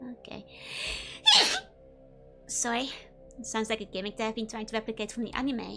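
A single sharp sneeze bursts out near the start, loud and brief, followed by a person talking.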